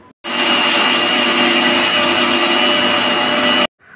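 A kitchen mixer grinder whirs loudly and steadily for about three seconds while grinding green chillies and garlic into paste, then cuts off abruptly.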